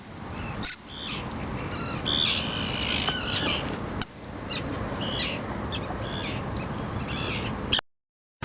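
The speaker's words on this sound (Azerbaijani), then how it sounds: "Bu da balaca quşların balaları." Young birds call from a lakeside spot while fishing, a busy chorus of harsh squawks and chirps that continues steadily before cutting off abruptly near the end.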